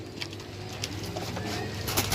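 Badam sira pigeons coo repeatedly at a pigeon sale, the soft throaty calls close and steady over a low background hum, with occasional brighter bird sounds toward the end.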